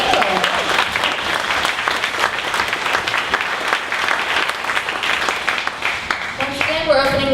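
Audience at a 1 Million Cups startup pitch event in Dallas gives a sustained round of applause, dense steady clapping throughout with some crowd noise, fading slightly near the end.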